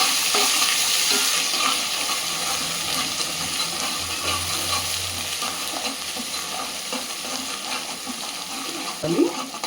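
Ginger garlic paste frying in oil in a pan for gongura mutton, giving a steady close sizzle and hiss with light stirring scrapes throughout, and a brief louder clatter near the end.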